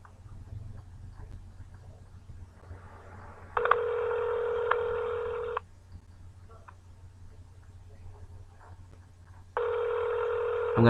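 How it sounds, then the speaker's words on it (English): Telephone line tones play during a call transfer to an administrative office: two long, steady electronic tone bursts of about two seconds each, separated by quiet line hiss with a low hum underneath. "Wait while I transfer your call."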